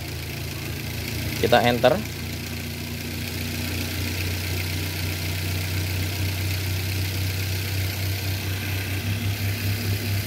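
A car engine idles steadily throughout an engine management diagnosis, a constant low hum with brief speech near the start.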